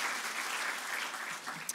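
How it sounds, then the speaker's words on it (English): Audience applause at a conference on forced displacement in Africa, a steady wash of many hands clapping that holds evenly throughout, with no voices over it. "So another round of applause."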